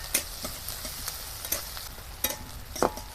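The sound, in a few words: lightly frying onion, green chilli, ginger and garlic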